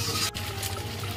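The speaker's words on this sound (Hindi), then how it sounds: "तो यहाँ मैं थोड़ी सी पानी डालकर पहले मसाले को पका लूंगी" Water poured into masala cooking in a pan for a besan curry, a steady close trickle and hiss lasting about a second with a brief break partway through.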